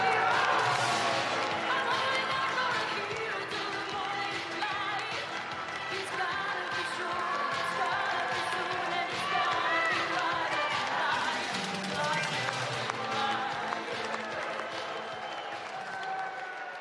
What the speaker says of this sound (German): Einen großen Applaus für unseren Generalsekretär Michael Schnellitz.